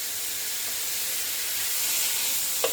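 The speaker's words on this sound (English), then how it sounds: "And we're going to sear this off." Bacon sears in a hot skillet with a steady, soft high hiss of sizzling fat, fairly even throughout, with a faint stir or scrape near the end.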